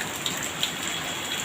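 Steady rain pours down in a hot spell, a dense even hiss of drops with a few brighter patters, close and continuous with no voices.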